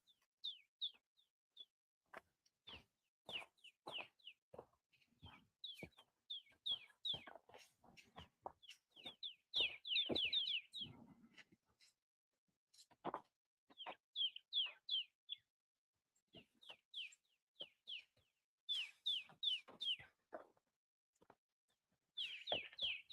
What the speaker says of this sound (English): And there's cardinals calling